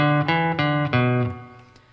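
An electric guitar plays the lead-in lick to the wild section of a song, a few sharply picked notes in quick succession, close and alone, ringing out and fading toward the end.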